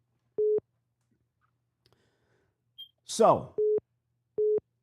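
Electronic tones from a phone with an incoming call come in three short, evenly spaced beeps, clear and close in a quiet room, with a brief spoken word between them.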